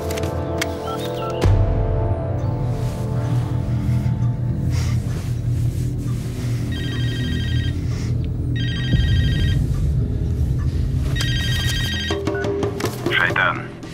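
A telephone rings in a 2014 Russian crime drama, with several short bursts of ringing in the second half over a busy background and talk.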